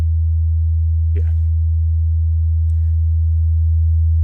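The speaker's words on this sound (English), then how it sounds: "So that's my 81 hertz signal." A steady 81 Hz sine wave test signal plays as a constant low hum throughout, with two faint brief noises briefly layered on top.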